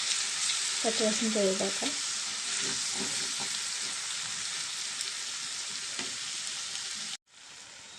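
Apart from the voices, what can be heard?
fenugreek leaves frying in a pan with tomato and onion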